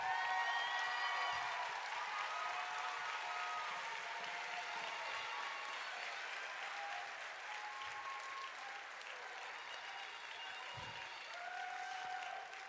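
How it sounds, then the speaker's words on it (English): Sustained applause from a graduation ceremony audience fills the hall, dense and steady throughout, easing slightly partway before swelling again, with faint voices and whistles scattered through the clapping. "round of applause as well."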